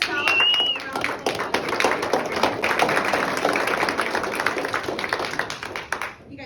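Indoor audience giving a round of applause, a burst of many hands clapping that swells quickly, holds for several seconds and then tapers off, with a voice speaking briefly at the start.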